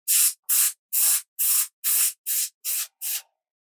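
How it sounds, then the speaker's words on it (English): Airbrush spraying ink in eight short, even bursts of hissing air, close and crisp, each roughly a third of a second long with brief pauses between them, alone without talk. "But by using the airbrush,"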